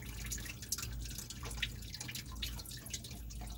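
Engine oil draining from a 2011 Chevy Silverado into a drain pan, heard as a steady run of close, wet dripping and trickling that stays even throughout with no talking.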